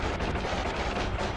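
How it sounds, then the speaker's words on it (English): Rapid machine gun wand fire in the game Noita, a dense continuous rattle of shots that stays loud and steady throughout with no talking. "now we have a laser gun. Sorry, machine gun."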